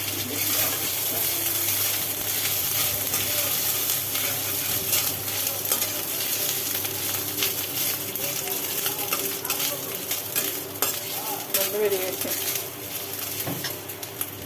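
Vegetables frying in a pan with a steady, close sizzle and occasional stirring scrapes, while a voice talks over the cooking now and then.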